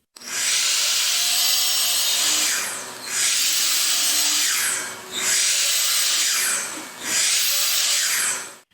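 Power saw cutting wooden blanket ladder rungs to 16 inches in four long passes, each a steady harsh whine that dips briefly between cuts, loud and close.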